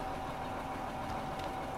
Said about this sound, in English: I can hear a tractor from here.